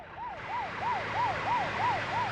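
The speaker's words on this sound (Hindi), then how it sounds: "बॉस, एम्बुलेंस है, मुझे लगा पुलिस है" An ambulance siren wails in quick, regular rising-and-falling whoops, about seven cycles in a row, heard at moderate distance over a low background rumble of traffic.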